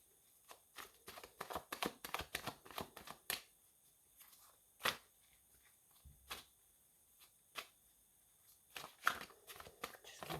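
Tarot cards being shuffled up close, with quick bursts of riffling and a few sharp snaps between quieter pauses; nobody speaks.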